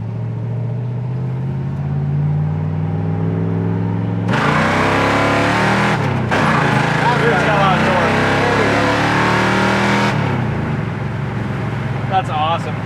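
A 1972 Mercury Comet GT with a small-block V8 and aluminum heads revs hard and pulls up through the gears, loud and close, with a brief lift at each shift and a voice briefly under the engine.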